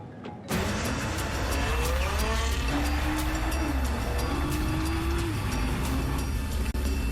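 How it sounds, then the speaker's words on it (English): A Nissan Skyline GT-R drives at moderate speed over rough roads, its engine note rising and falling through gear changes under steady road rumble, with no talking. "We drive at about 50 to 60 kilometers per hour on rough roads to really jolt the suspension and wheels."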